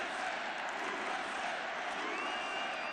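A large crowd at a Trump campaign rally in Ohio roars and cheers in a dense, continuous wash of noise, loud and unbroken throughout.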